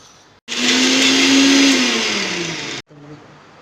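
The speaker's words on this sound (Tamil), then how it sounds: "இது சோம்பு, இது கொஞ்சம் இஞ்சும் ஒரு 4 பூண்டு அரிசியும் எல்லாம் போட்டு அரைச்சிட்டு வந்துடலாம்." A kitchen mixer grinder pulverises spices, ginger, four garlic cloves and rice for a masala: a loud motor whine starts abruptly, runs for about two seconds with a slowly falling pitch, then cuts off, leaving a faint coasting hum.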